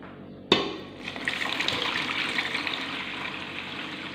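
Water poured into a one-liter glass beaker while making orchid seed culture medium: a sharp splash at the start, then a steady close gushing fill that keeps going to the end.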